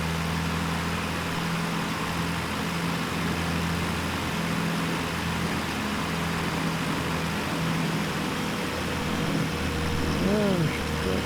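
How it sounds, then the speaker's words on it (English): An Icon A5 seaplane engine idling during a descent with flaps extended, a steady droning hum with loud wind rush filling the cabin throughout. "we got the little plane idling"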